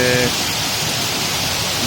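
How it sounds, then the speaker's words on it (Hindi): Steady rain pours over a bazaar, a continuous broadband hiss like a downpour on streets and awnings, filling the whole clip evenly with no distinct voices standing out. "हमारे बाज़ार का बारिश का माहौल देखें आप। किस तरह बारिश हो रही है"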